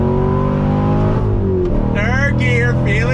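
A 2016 Chevrolet Corvette C7 Stingray engine pulls hard through the gears, its loud rising drone dropping at a shift before climbing again, close and continuous, with someone talking over it.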